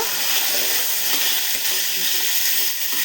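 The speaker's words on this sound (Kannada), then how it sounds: "ಆಲೂಗಡ್ಡೆ ಸ್ವಲ್ಪ ಎಣ್ಣೆಲಿ ಈ ಥರ ಫ್ರೈ ಮಾಡ್ಕೊಳ್ಳೋಣ" Potatoes fry in oil with a steady, dense sizzle that holds at an even loudness throughout, with no voices over it.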